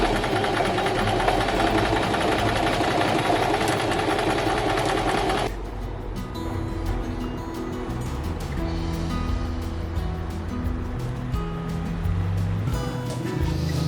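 Sewing machine stitching lining onto the top of a cosplay dress, a loud steady whirring run for about five seconds, then quieter intermittent mechanical rattling and hum.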